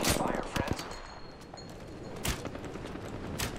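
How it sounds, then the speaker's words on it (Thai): Another squad trading gunfire in Apex Legends: several sharp, loud bursts of shots, one at the start, another around two seconds in and one at the end, over a steady background of game noise. "อีกตีนึงกำลังยิงกันอยู"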